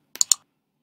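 Three quick, crisp computer mouse clicks in rapid succession, close and isolated against silence, during work in After Effects software.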